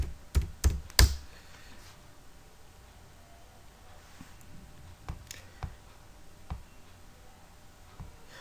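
Keyword typed on a computer keyboard: a quick burst of three sharp key clicks, then a long quiet stretch with scattered soft taps, close and fairly faint.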